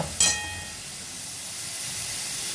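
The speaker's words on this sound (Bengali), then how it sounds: "কাজু কিশমিশ নারকেল সুন্দরভাবে ভেজে নিয়েছি" Cashew pieces, raisins and coconut fry in a pan, giving a soft, steady hiss after a short sharp burst at the start, fairly quiet and close with no voices.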